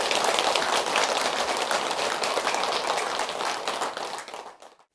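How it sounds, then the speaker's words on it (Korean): Sustained applause from a Buddhist lecture audience honoring senior monks, a dense wash of clapping that stays loud and steady before fading out over the final second. "큰 박수 한번 주시기 바랍니다"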